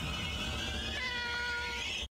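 A cartoon kitty gives a single drawn-out meow, bright and whiny, close and alone, from the animated series Teen Titans Go.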